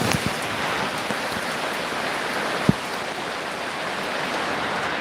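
Steady rain falling in a warm place, a dense even hiss of drops throughout with one brief louder tap partway.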